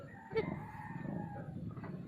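A caged bird gives a few short, rough calls over a low, rumbling background, moderately faint and fairly close, with a sharper call near the start and quieter ones after.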